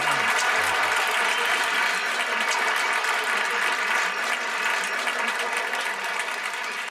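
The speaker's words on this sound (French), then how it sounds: "Et un grand applaudissement pour Patrick Wood de Technocracy News." Sustained audience applause at a conference talk on artificial superintelligence, a dense, steady wash of many hands clapping that holds loud throughout and fades slightly toward the end, with no speech.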